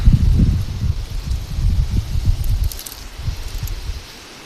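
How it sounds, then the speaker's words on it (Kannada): Wind gusting outdoors under a cloudy pre-rain sky, heard as low, buffeting rumbles against the microphone that rise and fall over several seconds, then ease off. "ಈ ಕಡೆ ಇರೋ ಮೋಡನ ಬೇರೆ ಕಡೆ ಇಟ್ಕೊಂಡು ಹೋಗ್ತಾಯಿದ್ದೆ ಗಾಳಿ"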